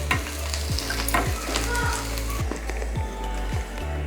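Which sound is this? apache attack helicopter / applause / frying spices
frying spices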